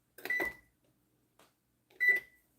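Microwave oven beeping twice, short electronic tones about two seconds apart with quiet between them.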